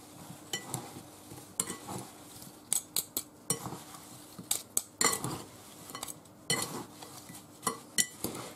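Peaches are stirred with sugar in a bowl, giving irregular clinks and scrapes of a utensil against the dish, with sharp taps and quieter stirring between them and no talking.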